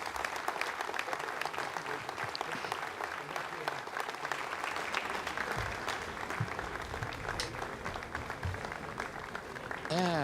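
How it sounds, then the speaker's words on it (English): Sustained applause fills the Jupiter control room at Kourou after an Ariane 5 satellite separation, a dense steady clapping from many people with voices mixed in throughout. "you heard the applause from the people in Jupiter"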